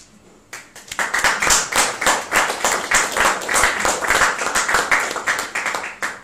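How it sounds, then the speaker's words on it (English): After a poetry reading in a pub, an audience breaks into applause following a brief quiet moment. The clapping is fairly close, lively and uneven, with distinct individual claps sustained to the end. "I'm not used to applause."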